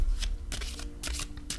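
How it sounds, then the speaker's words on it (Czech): A deck of self-designed tarot-style oracle cards being shuffled by hand, several quick riffling bursts of papery flutter separated by short pauses, close and fairly soft. "A já už si tady zamíchám karty."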